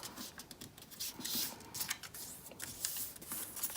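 A sheet of paper being folded up close and quiet, soft crinkling and rubbing strokes in a loose, uneven rhythm.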